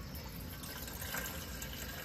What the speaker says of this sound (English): I'm just gonna go with just water here in our reservoir.